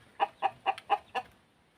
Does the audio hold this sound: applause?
no